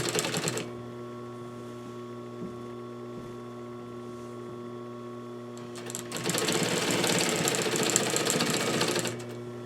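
A sewing machine stitches slipcover fabric for a Parsons chair with a steady mechanical whir, first at a moderate pace and then speeding into a louder, denser run near the end.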